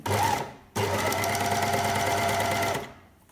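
Domestic sewing machine stitching jersey fabric for a cake-tin sleeve, set to a narrow 0.70 stitch width; a short burst, a brief pause, then a steady close run of rapid mechanical whirring that stops near the end.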